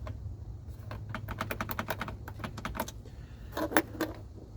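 A key is worked into the rusty, long-unused ignition of a John Deere 445 garden tractor, giving a run of close, quick metallic clicks and scrapes with a brief jangle near the end.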